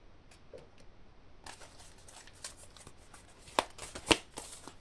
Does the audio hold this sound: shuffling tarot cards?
yes